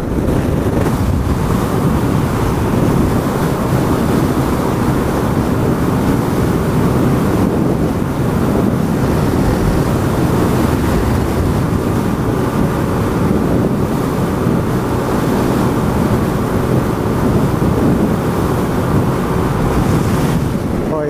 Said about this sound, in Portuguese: É flat wind, vento que vem plano